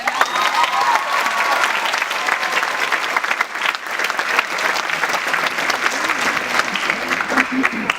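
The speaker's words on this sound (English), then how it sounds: "Please give him one big round of applause again." A large audience at a valedictorian speech applauds steadily, a dense continuous roar of clapping with some crowd noise, loud and sustained for the full eight seconds.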